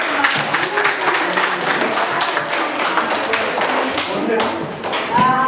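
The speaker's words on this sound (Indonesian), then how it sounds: "kasih aplaus untuk" Classroom applause at the end of a teacher's lesson in an Indonesian school: steady, moderately loud clapping from a group of students, with scattered voices chattering over it.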